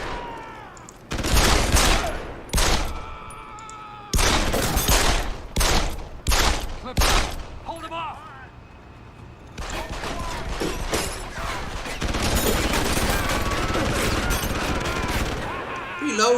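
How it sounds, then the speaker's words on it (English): Machine gun fire in the video game Deus Ex, loud rapid bursts and gunshot volleys in several separate bursts, then a longer sustained stretch of dense firing, with speech in places. "That's a machine gun."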